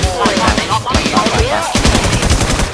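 Rapid bursts of automatic gunfire crackle through a round of the online shooter game Infestation, loud, close shots in quick succession with short gaps between volleys.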